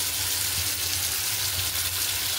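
Soft, cooked potato pieces sizzle steadily in hot oil in a pan as poppy seeds go in. The frying hiss is even and close, with faint stirring and no speech.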